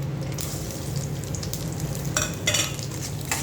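Grated coconut roasts in a pan for a semolina and moong dal payasam, giving a steady, close, dry sizzle with a few brighter scraping stirs near the end and no talking.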